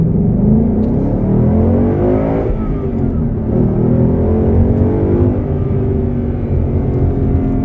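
A 2016 Ford Mustang GT convertible with a V8 of about 420 horsepower accelerates in first gear, its loud close engine rumbling and rising steadily in pitch throughout without a break.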